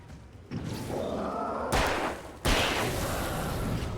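Two sharp, loud gunshots from the Alan Wake video game, about a second apart, each ringing out over a steady background of game ambience.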